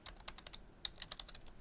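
A few quiet, crisp computer keyboard key presses while renaming a file, about a dozen light clicks in an uneven quick rhythm, faint and close, no voices.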